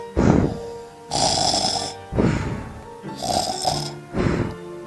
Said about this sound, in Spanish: se durmió después de descansar un rato y se puso a roncar